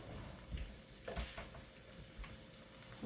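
A teaspoon of soft butter sizzles in a frying pan for creamy garlic pork chops: a steady hissing fry with a few soft clinks and stirring scrapes, close by and fairly quiet, with no talking.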